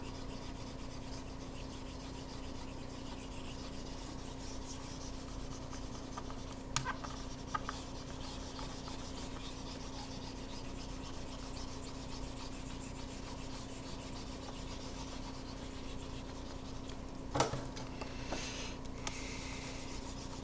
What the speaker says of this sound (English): Let me just erase everything.